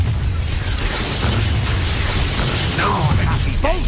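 The Depulso force spell goes off in the video game Hogwarts Legacy amid a rumbling, booming battle, with loud low bursts throughout and brief whooshing effects near the end.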